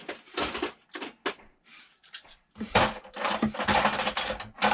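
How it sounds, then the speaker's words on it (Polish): Hammers, pliers and other hand tools tossed into a Keter Stack N Roll plastic drawer that already holds wrenches, making a string of loud metallic clatters and clanks in uneven bursts, close by. "Rzucimy jakieś młotki, cęgi."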